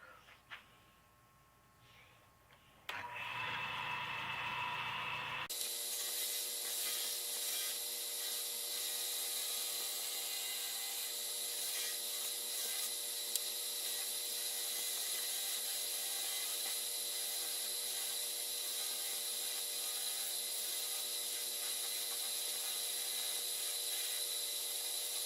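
Lathe spinning a wooden stick pen while a tool cuts it off, a loud, steady high whine and hiss that starts abruptly after a short quieter stretch and runs on unchanged.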